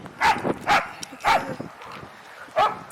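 A Golden Doodle, a Shih Tzu and Poodle mix, barks nearby in four sharp, evenly spaced barks with brief gaps between them, loud against a quiet background.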